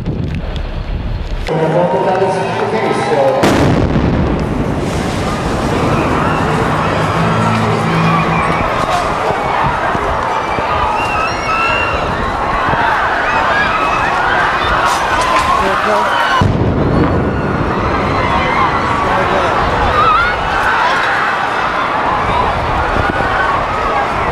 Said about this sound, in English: the video of the moment that those two bombs went off